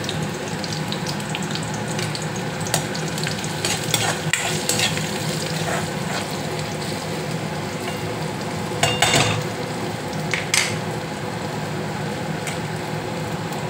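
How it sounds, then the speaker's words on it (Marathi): Asafoetida sizzles and is stirred in a hot pan while making paneer gravy, a soft steady frying hiss with occasional spatula scrapes and clinks, fairly quiet and close. "हे थोडं सॉटे करून घेऊया। मी यात टाकतो हिंग 1 टीस्पून"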